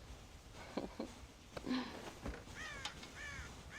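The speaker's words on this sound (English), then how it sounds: "God damn crows!" Crows cawing in the Red Dead Redemption video game, a rapid series of harsh, scratchy caws overlapping one another and fairly close, with no talk over them.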